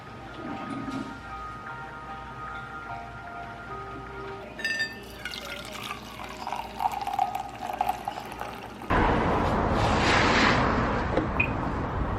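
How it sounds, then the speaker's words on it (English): Coffee being poured, a quiet trickle amid kitchen clatter that turns into a louder, steady liquid rush toward the end. "So I'm just gonna pour my coffee"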